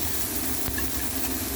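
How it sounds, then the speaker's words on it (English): Parma ham frying in hot oil in a pan gives a steady, even sizzle close by, with a soft scrape or stir partway through. "There we go, nicely cooked, sizzling hot."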